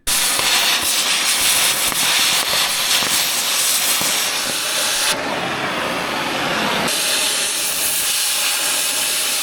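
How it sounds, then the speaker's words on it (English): Arc welding on the broken cylinder rod of a backhoe's Wain Roy jaw bucket, building up a weld surface: a loud, continuous broadband crackle and hiss that runs nearly steady throughout, briefly changing tone midway before resuming. "Trying to build a weld surface here"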